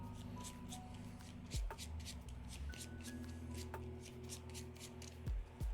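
A deck of Marvel Champions cards is shuffled nearby during a tabletop game, soft rapid riffling and shuffling strokes with a few sharper slaps of cards settling, quiet and close with no talking.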